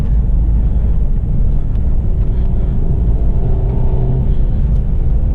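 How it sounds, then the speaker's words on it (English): A Mercedes-Benz C300 engine drones steadily with deep, rumbling low-end noise while driving, constant and loud throughout, with road and wind roar mixed in. "The engine sounds good."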